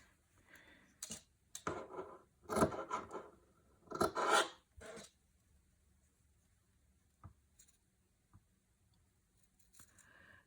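Scissors trim away excess quilt batting and fabric from a scrappy landscape lap quilt, giving soft rasping snips in a few clustered bursts, fairly close, followed by quieter scattered rustles and taps.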